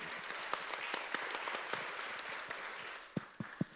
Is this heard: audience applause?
yes